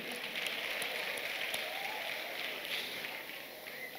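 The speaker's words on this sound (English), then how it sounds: "Give a round of applause, Pastor Sergeant Joey." A church camp audience applauds during an inaugural ceremony, a dense, steady clatter of many hands that holds for about four seconds at moderate loudness.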